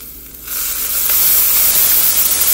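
A stir fry hisses and steams in a skillet, starting quiet then bursting into a loud continuous broadband sizzle that holds steady to the end, with no talking.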